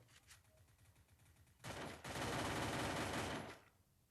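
Gunfire from an SKS rifle in the video game Free Fire: a quiet lead-in, then a loud, dense burst of rapid shots lasting about two seconds before cutting off.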